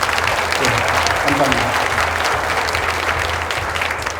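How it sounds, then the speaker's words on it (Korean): Audience applause at the opening ceremony of a Jeju social welfare vision convention, a dense, loud, continuous round of clapping in a hall, with a brief spoken thank-you at the start and a slight fade toward the end. "다시 한번 박수 부탁드립니다."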